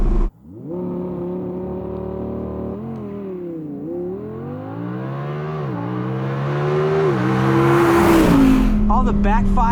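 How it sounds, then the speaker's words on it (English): A stock C8 Corvette Z06 engine revs on the move, its tone dipping and climbing through shifts into a steadily rising howl that breaks into a burst of crackling exhaust pops near the end. "All the backfires you get with it."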